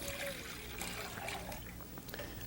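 Water poured into a cooking pot to be boiled with sugar for raisin and walnut halva, a steady trickling splash running continuously and fairly quietly, heard close by with no talking.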